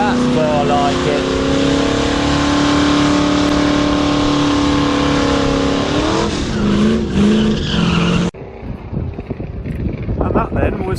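At the Sywell Classic 2023 burnout competition, a car holds a loud, sustained high-revving engine note with screeching tyres, then the roar cuts off abruptly and gives way to quieter crackling noise.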